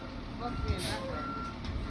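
Truck reversing alarm beeping in a steady repeated pattern outdoors at a well pump job site, moderately distant, under nearby voices and low engine rumble.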